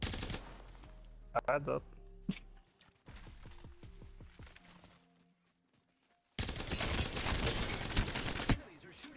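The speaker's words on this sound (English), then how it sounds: "Enemies are shooting at me." Loud bursts of enemy gunfire in an Apex Legends match, rapid and sustained toward the end, with a player talking over earlier scattered shots.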